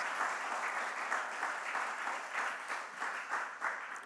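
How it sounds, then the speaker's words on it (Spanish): A church congregation gives a round of applause to God during a worship service, a soft, fairly distant wash of many hands clapping steadily for a few seconds with no talking over it. "Dale un fuerte aplauso a Dios."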